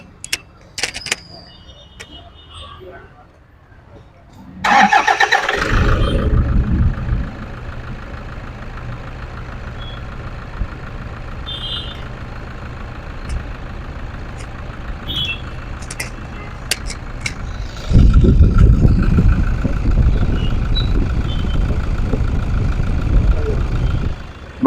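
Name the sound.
Toyota Fortuner 2016 diesel engine starting and idling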